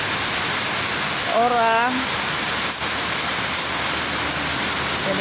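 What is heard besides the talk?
heavy rain falling in Subulussalam city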